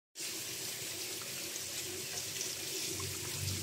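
Tap water gushes steadily into a sink while Baguio beans are washed, a constant close rushing stream that starts abruptly and continues without a break, with no voices.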